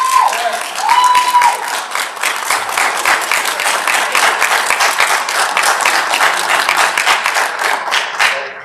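Applause fills a school board meeting after a public comment, a crowd clapping loud and steady throughout, with a brief voice near the start.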